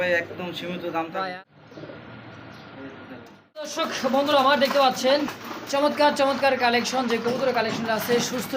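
Healthy pigeons coo softly in the background of a pigeon sale, nearly buried under steady close talking that runs through most of the clip.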